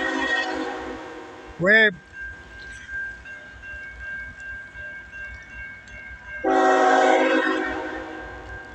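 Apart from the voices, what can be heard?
eastbound train passing with horn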